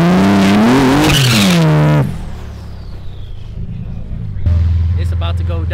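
A Ford Mustang GT revs hard with a rising and falling engine whine, then its tires squeal through a 360 spin at a street grudge race, followed by a renewed low engine rumble; loud and close, with voices around.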